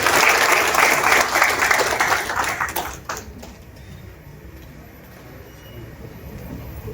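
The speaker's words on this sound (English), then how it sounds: "Let's please give them a round of applause as they come to the stage." Audience applause at a workshop on spice value chains, loud and steady clapping for the first three seconds, then fading quickly into low room murmur.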